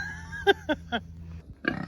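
Pigs on an Alaska homestead give a few short, close grunts and oinks in quick succession, then a pause and one more grunt, over a low steady hum.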